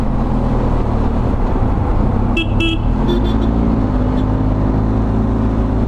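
Dense road traffic on the way into Pune, heard from a motorcycle, a loud constant engine and road roar, with a few short car horn toots cutting through near the middle.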